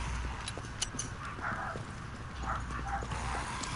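Dog in a video game barking and whimpering, with short yips and whines that are moderately close and sit over low background game noise.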